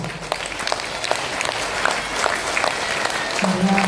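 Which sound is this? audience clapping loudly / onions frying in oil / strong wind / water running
audience clapping loudly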